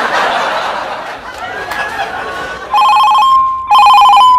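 After laughter and chatter, a telephone rings loudly in two electronic trilling bursts that dominate the end.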